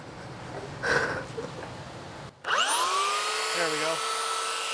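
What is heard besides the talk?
belt sander running with belt cleaning eraser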